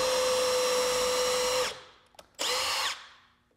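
A power drill with a 7/32 bit bores a quarter of the way into a deck board, one long steady high whine that winds down, then a second short burst of drilling, close and loud with no talk.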